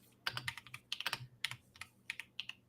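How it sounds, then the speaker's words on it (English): Quiet typing on a computer keyboard: uneven bursts of crisp key clicks in quick clusters with short pauses between them, close and soft, with no voices. "You can hear me typing."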